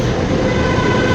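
Metro train arriving at a station, a loud continuous rumble and rail roar close by, steady throughout with no voices.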